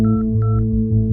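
Touch-tone telephone keypad beeps, three or four short evenly spaced dial tones over a steady low hum, close and clear, with no talking.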